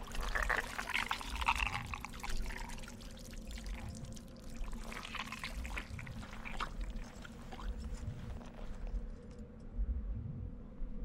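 Drinking water is poured into a container, a soft, continuous trickle and splash that fades toward the end, fairly quiet.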